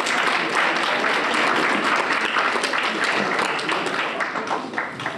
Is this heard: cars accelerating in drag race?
no